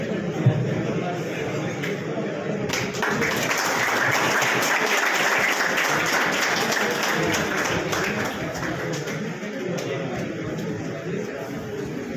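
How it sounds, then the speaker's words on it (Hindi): An audience applauds at a function held at a coaching institute, a dense, steady wash of clapping from many hands that carries on for about twelve seconds, close and loud, with a brief thump near the start. "एक बार तालियां बजा दीजिए।"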